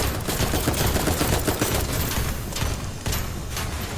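Gatling gun enemies in a video game fire in rapid continuous bursts, loud and close, the rattling shots running the whole length with brief dips in the stream.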